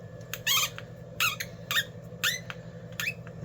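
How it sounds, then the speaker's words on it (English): Screws squeak as they turn in the plastic housing of a DeWalt DW567 rotary hammer, giving five sharp, high squeals at a steady pace over a low background hum. "Squeaking screws, that already indicates a high quality plastic."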